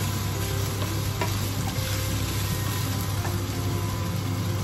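Onion and garlic sautéing in a pan for pork adobo in coconut milk, a steady close sizzle with occasional stirring scrapes, continuous and even throughout.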